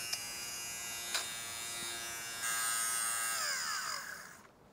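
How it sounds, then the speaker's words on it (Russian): An electric lint remover buzzes steadily while shaving pills off clothing, a close, quiet motor hum with a few brief clicks, rising in pitch midway and then winding down and stopping. "Процесс удаления катышков даже вот слышен,"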